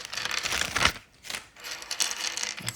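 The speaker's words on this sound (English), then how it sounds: "let's do a typing test" Typing on a modified Corsair K70 mechanical keyboard with a custom detachable cable, fast bursts of clacky keystrokes broken by short pauses, close and crisp with no talking.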